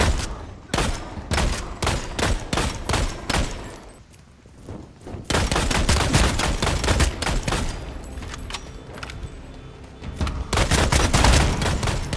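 Rapid gunfire bursts in the vampire battle royale game Bloodhunt, loud and close, with dense volleys and brief pauses. The longest lull comes near the middle, and the heavy firing resumes after it.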